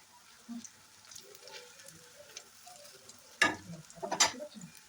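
Potato fritters (aloo bora) in batter with rice flour fry in oil as a faint, low sizzle, then louder spattering bursts near the end as the pieces are moved.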